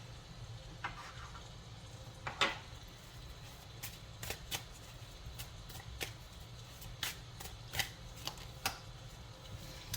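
Tarot cards are shuffled and handled close up, with a run of soft riffling taps and sharp flicks over a low, steady background hum; no talking.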